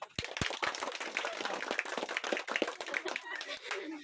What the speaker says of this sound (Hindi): मुसब्बिर के लिए ताली बजाओ